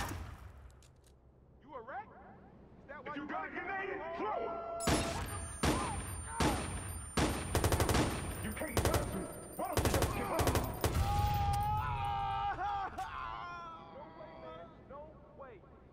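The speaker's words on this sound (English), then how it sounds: "Somebody shooting at me." Enemies shooting in the Watch Dogs video game: a tight cluster of sharp, close gunshot bursts fires repeatedly through the middle stretch, framed by quieter moments where someone talks.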